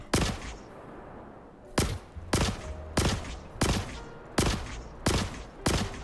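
Eight loud gunshots from the Custodian weapon in Star Citizen, fired in a steady rhythm about every half second to second, each a sharp crack with a short ringing tail, and no talking over them.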